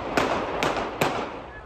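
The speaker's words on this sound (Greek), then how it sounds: "Τέσσερις πυροβολισμοί ακούγονται μεσημέρι Τετάρτη στην Πατησιόν." Gunshots from a police officer's service pistol fired into the air on a busy Athens street at midday; three sharp, evenly spaced cracks ring out over steady city and traffic noise.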